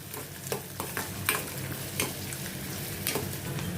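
Chopped onion sautéing in a pan for paneer kofta, with a soft, continuous sizzle and repeated light stirring scrapes at an even rhythm, close but fairly quiet.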